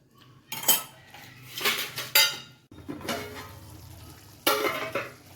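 A lid is set onto a pan of palak paneer with butter, giving several close metallic clanks and rattles in separate bursts over a faint background sizzle.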